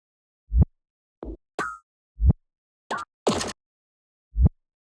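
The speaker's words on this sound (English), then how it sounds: "Here I added a reverse hat, kick, and glitched out drums that I chopped up into the playlist." Sparse, isolated drum hits: deep kick thumps, a swelling reversed hi-hat and short glitchy chopped percussion, separated by silence.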